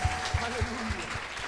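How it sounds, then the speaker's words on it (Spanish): Church congregation clapping loudly in steady, rhythmic beats, roughly three claps per second, with a faint hum of voices and music underneath. "Dale un fuerte aplauso al Señor esta mañana. Apláudale fuerte."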